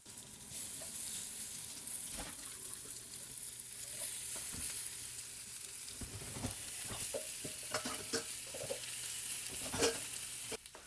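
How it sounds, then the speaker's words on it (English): Steady, crackling sizzle of Brazilian churrasco meat skewers frying in a hot pan, with occasional clinks and scrapes of stirring, close and continuous. "add in the skewers to the pan and listen to that sizzle"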